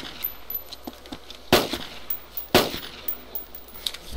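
Gunfire in the video game DayZ: two sharp, distinct shots about a second apart, fairly close, over a low background with faint clicks and no talking.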